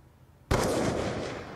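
A single loud sniper rifle shot in an Aftermath game round, a sharp blast at once followed by a long, fading echo tail, heard alone with no talk.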